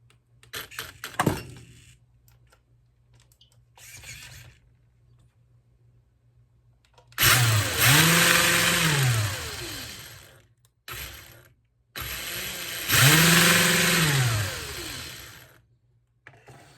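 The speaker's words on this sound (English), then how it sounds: "I'm going to turn it on here and see what it's got" An RC pulling truck with a new ESC, a 4S battery and a single-speed transmission kit revs in two loud bursts, its motor whine sweeping up and back down, with clicks and handling noises in between.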